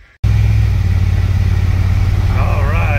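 After a brief silence, the engine of a 1948 Studebaker pickup truck runs steadily at idle with a close, heavy low rumble, and a voice speaks over it near the end.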